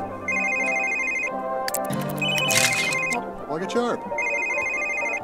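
A phone in The Sims 3 rings in repeated short electronic trilling bursts, loud and clear, with a bright jingle and someone speaking briefly between the rings.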